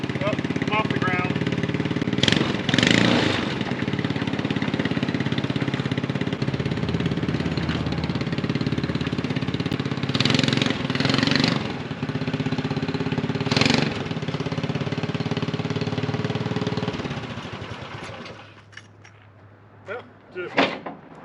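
A small, cheaply built kid-size snowmobile engine runs steadily at idle, with a few sharp knocks and clunks, before cutting out near the end.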